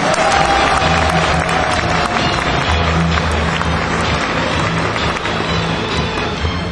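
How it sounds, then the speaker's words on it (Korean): An audience at a 2004 early entrance ceremony applauds the real estate department professors: steady, dense clapping from a large crowd fills the hall throughout, with a low hum of voices and music beneath. "다시 한 번 더 이 부동산 학부 교수님들에게 격려 박수를 부탁드립니다."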